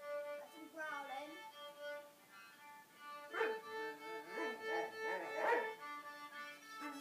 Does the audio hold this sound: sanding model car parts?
no